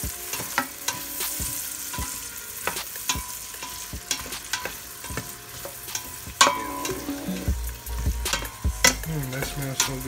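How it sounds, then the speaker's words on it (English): Onions and bell pepper sautéing in a pan for Cajun chicken pasta, a close, continuous sizzle with frequent sharp clicks and scrapes of stirring throughout. "add in our onions and bell pepper. We're gonna saute them, get them to where they're soft"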